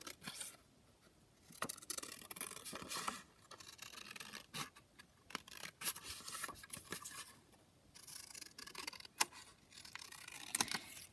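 Scissors snip through paper to trim a handmade pocket tag, a run of short, crisp cuts in uneven bursts with brief pauses between, quiet and close.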